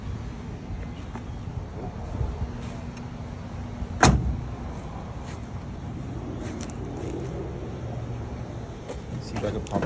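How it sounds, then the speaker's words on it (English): A barn-find 1960s Chevy Camaro SS has its hood popped, giving one sharp clunk of the latch partway through. Low, steady background rumble surrounds it, with faint voices. "Let's pop the hood on this baby."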